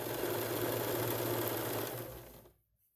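A sewing machine runs steadily while stitching a halter-neck garment piece, with a dense mechanical whir that holds for about two seconds and then stops abruptly, leaving near silence.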